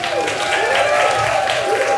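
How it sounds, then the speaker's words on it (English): An audience at a gin festival tasting session in Glasgow claps, a continuous wash of applause close by, with a faint tonal hum running beneath it. "So if we give them a massive round of applause."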